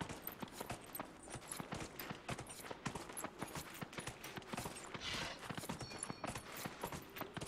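Hoofbeats of war horses racing in Dragon Age: Inquisition, a steady rapid clip-clop that carries on throughout over busy game ambience, loud and close.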